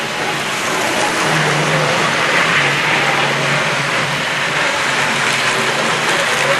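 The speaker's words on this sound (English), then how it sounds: "The motor was still running with the wheels spinning" Hornby Triang model train motor whirring steadily after derailing, the wheels spinning freely against a jammed signal; a continuous, close mechanical buzz with a faint ratcheting texture throughout, no talking.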